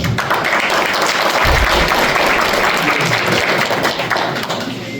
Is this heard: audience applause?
yes